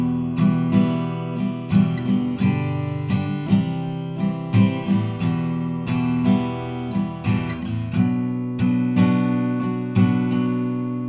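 An acoustic guitar strums the opening chord progression of a song in a steady, rhythmic pattern of repeated strokes. The chords change at regular intervals across about eleven seconds, with no voice.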